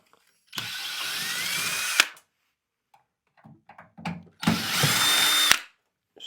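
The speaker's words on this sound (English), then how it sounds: "let's just start taking screws out, maybe." A power drill backs safety screws out of scrap metal from a railway car brake wheel in two loud whirring bursts, separated by quieter clinks and handling noises.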